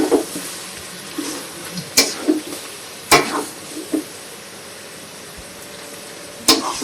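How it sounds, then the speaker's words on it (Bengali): Mutton curry cooks down in oil in a Bengali-style pan with a low, steady sizzle. Sharp spatula strikes and scrapes land every second or so, close and clear, with no talk. "মাটনটা খুব ভালো মতো কষিয়ে নিয়েছি,"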